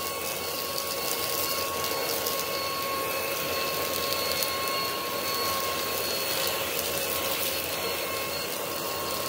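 A car vacuum cleaner at full power cleaning dirty car mats, a steady, constant whooshing whine that stays even throughout with no talk.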